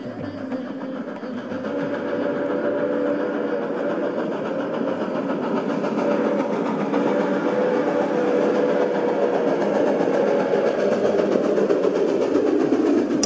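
Steady engine rumble of a train used to shoot a film scene, a continuous loud mechanical drone with no pauses, alone without talk.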